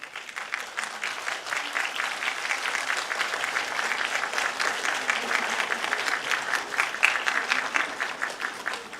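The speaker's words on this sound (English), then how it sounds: "give them a heartiest applause" Audience applause fills a graduation ceremony hall, a dense, steady patter of many hands clapping that holds at an even level for nine seconds without talk.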